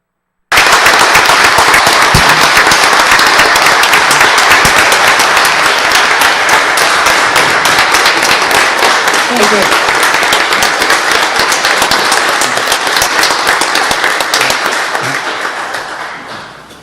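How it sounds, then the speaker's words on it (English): Loud sustained applause at a town board of commissioners meeting in Nutley, New Jersey, honoring a 96-year-old resident: a dense, close roar of many clapping hands that starts abruptly and tapers off near the end. "Let's give Mr. Baxter a round of applause"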